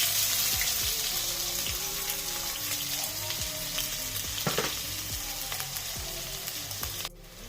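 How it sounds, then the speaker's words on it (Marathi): Chopped onion hits hot oil already seasoned with mustard seeds and cumin, giving a dense, close sizzle with stirring scrapes throughout that drops off sharply near the end; no one speaks. "आता कांदा टाकते."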